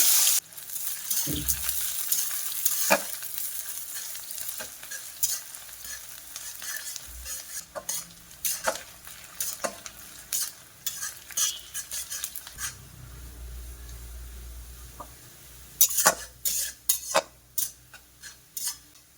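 Chopped onions fry in oil in a hot wok, a close sizzle broken by scraping spatula stirs and sharp metallic clinks against the pan, the frying growing quieter and more sporadic toward the end.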